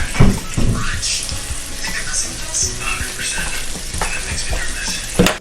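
Rum raisin cinnamon babka slices fry in a buttered pan, a close, busy sizzle and crackle with scattered pops and scraping knocks throughout.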